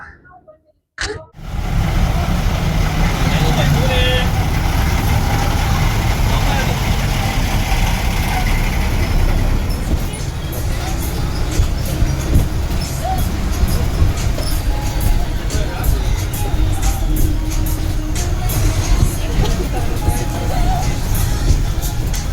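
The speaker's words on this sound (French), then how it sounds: "on va prendre surtout un chicken bus." Engine of a chicken bus rumbling loud and close from inside while riding, a low steady drone with rattles and clatter, after a brief quiet moment at the start.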